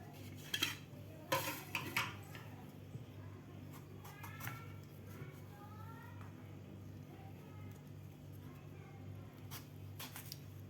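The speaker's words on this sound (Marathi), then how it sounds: "आता आपल्याला याच्या फोडी करून घ्यायच्या आहेत" A knife cuts peeled raw green mango into pieces, giving faint, scattered taps and clinks against a board and utensils over a soft background hum.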